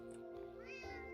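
A single drawn-out Minecraft cat meow, clear and close, with a rising then falling tone, no talking.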